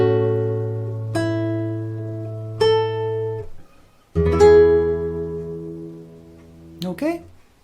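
Fingerstyle guitar picks the first line of the melody, single notes and open-string tones ringing out one after another at a gentle pace, close and clear with no talking.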